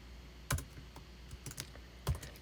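Keystrokes on a computer keyboard while a formula is entered in data-visualization software, a few sparse clicks and taps, close and fairly quiet, with no talking.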